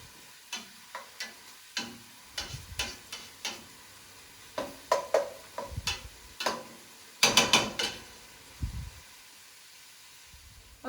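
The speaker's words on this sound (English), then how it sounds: "I've been frying the onions for, I don't know, about 10 minutes" Onions fry on high heat in a pan while a utensil stirs and scrapes, giving irregular clicks and bursts of hissing frying noise.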